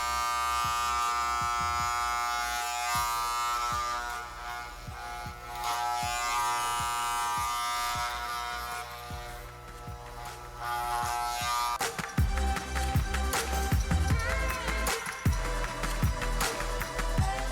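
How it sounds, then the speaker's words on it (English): An electric hair trimmer fitted with a number 7 guard buzzes continuously as it cuts natural hair, its drone shifting in pitch and growing rougher partway through as it bites into the hair. "So I'm going to start off with the largest trimmer. This is a number 7"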